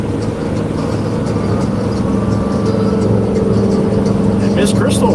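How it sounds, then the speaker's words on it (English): A blue Ford Mustang drives past as a steady road rumble with a slight whoosh near the end, under a constant background hum and a murmur of voices. "Here comes a blue Mustang."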